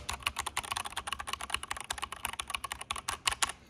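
Rapid typing on a Machenike KT68 mechanical keyboard, a dense stream of crisp, clacky keystrokes up close with no voices.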